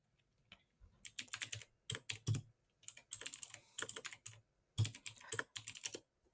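Fingers typing on a computer keyboard in bursts of rapid, crisp clicks separated by short pauses, close and clear with no talking.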